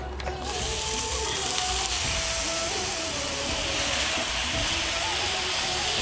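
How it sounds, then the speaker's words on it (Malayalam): Chopped lemon hits hot oil with chili powder for a vadukapuli naranga pickle, setting off a strong continuous hiss and sizzle that holds steady, with faint tonal whines and light clatter underneath. "ഇതിലേക്കാണ് നമ്മൾ അരിഞ്ഞു വെച്ചിട്ടുള്ള നാരങ്ങ ആഡ് ചെയ്ത് കൊടുക്കുന്നത്."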